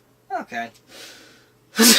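Someone sneezes sharply once, a brief loud burst that comes after a few quiet vocal sounds and a short breathy inhale, with speech around it.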